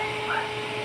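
A small blower fan fitted inside a modified battery charger built into a voltage regulator case whirs steadily and close, a constant airy hum with a faint tonal whine throughout.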